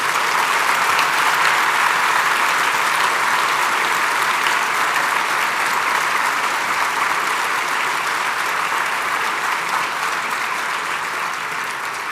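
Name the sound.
applause for honored police officers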